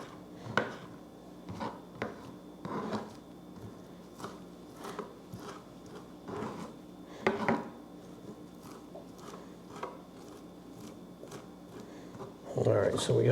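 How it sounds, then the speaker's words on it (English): Fresh chives are chopped with a knife on a board, giving soft, irregular taps and thuds spaced a second or so apart, faint and close, with a brief louder rustle near the end. "And as I'm chopping, it's releasing all that aroma of the kind of onion"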